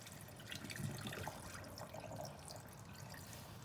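Water from a drinking glass poured into a jar of eggplant pickle, a soft steady trickle and splash running continuously at low level, with no talk over it.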